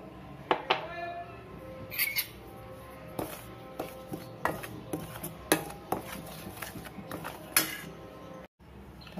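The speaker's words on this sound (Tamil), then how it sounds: "ஒரு பாத்திரத்தை அடுப்பில் வச்சு இந்த இடியாப்பம் மாவு நம்ம எடுத்துருக்கோம் இல்லையா, ஒரு டம்ளர் மாவை லேசாக வறுத்து எடுத்துக்கணும்" A utensil scrapes and taps against a pan while idiyappam rice flour is dry-roasted, giving a series of sharp, close metallic clicks and scrapes at an irregular pace over a quiet kitchen background.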